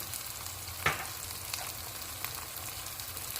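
Ground spices with green chilli paste, fenugreek, turmeric and red chilli powder frying for fish curry, a soft continuous sizzle with one clear clink of a utensil early and faint scraping after.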